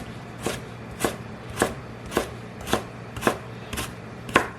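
A knife dicing sweet potato into small pieces on a cutting board, eight evenly spaced crisp chops about half a second apart, close and clear, with no talk.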